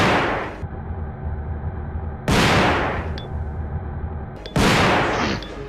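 Chris fires a shotgun in the Resident Evil 2 video game: three loud, sharp blasts spaced about two seconds apart, each one decaying into a rumbling tail over a low background hum.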